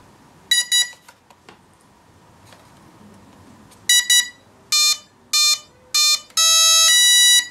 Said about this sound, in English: I'm just going to calibrate the ESC.